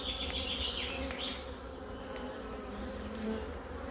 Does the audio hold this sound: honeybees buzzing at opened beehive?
yes